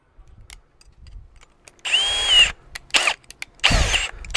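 A power drill fitted with a quarter-inch bit whirs up in three short, loud bursts, drilling holes to mount a wrought iron gate post, separated by brief pauses and small handling knocks.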